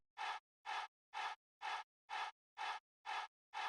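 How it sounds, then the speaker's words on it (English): Crowd chant sample in a music production: eight evenly spaced, breathy chant bursts repeating in a steady rhythm, each short and cut off cleanly, fairly quiet, alone. "And we also have this crowd chant sample going on in the back too."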